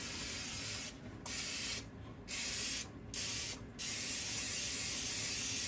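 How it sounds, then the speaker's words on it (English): Butter cooking spray hisses from a can into a pan in four long bursts with brief pauses, ending in a sustained spray, close up. "I'm gonna spray it with butter spray."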